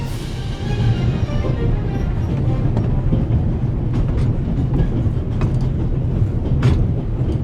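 A runaway train in the video game The Raven Remastered, speeding out of control through the Alps, rumbles continuously with a loud, dense low roar and scattered metallic clicks and rattles, no voices.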